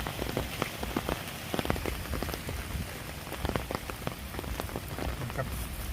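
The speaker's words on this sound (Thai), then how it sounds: "นี่ชมบรรยากาศฝนตกตอนเย็นนะครับ" Evening rain on a countryside farm plot, a steady close patter of drops striking surfaces with scattered louder splats, fairly soft and continuous with no voices.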